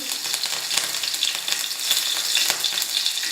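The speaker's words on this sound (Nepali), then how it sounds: "अब म यसमा हरियो खुर्सानी राख्छु।" Green chilies fry with cumin seeds in hot oil for Nepali-style dal tadka, a dense close crackling sizzle with small pops throughout, no voices.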